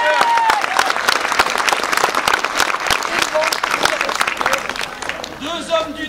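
A crowd at a medieval knights' tournament reenactment in La Chapelle-de-Guinchay claps and cheers steadily as a knight enters the lists, while voices talk over the applause.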